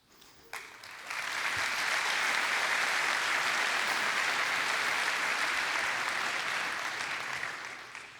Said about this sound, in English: let's applaud to the last year Kotlin grants winners